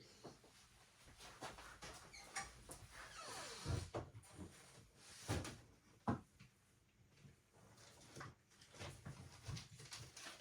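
A small adhesive-supply drawer in a scrapbooking craft space being pulled open: quiet scrapes and soft knocks with a few sharper thumps, faint and close, amid light handling noise.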